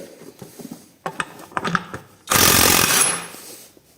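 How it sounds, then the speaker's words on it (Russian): A DEVETECH cordless impact wrench loosens bolts: a few scattered clicks and handling clatter, then a loud, close burst of rapid hammering that lasts under a second before fading back. "открутит ли наш гайковерт все это дело"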